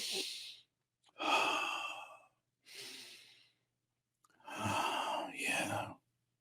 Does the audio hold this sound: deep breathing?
yes